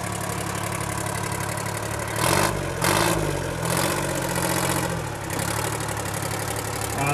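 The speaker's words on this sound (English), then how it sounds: "Comes with a Detroit diesel, 2-cycle diesel with a driven blower." A Detroit two-stroke diesel engine with a driven blower in an antique tractor runs steadily at a loud, rumbling idle, briefly revving a few times before settling back, with no voices present.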